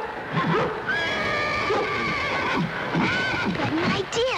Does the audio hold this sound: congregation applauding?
no